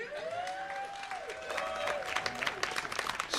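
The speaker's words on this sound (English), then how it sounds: "let me pause right there for applause" Audience at a Latino Heritage Month illumination ceremony breaks into applause, the clapping moderately distant and building toward the end, with a faint voice or tone lingering at the start.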